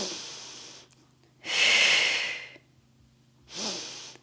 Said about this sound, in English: Exhale, inhale, exhale, and inhale.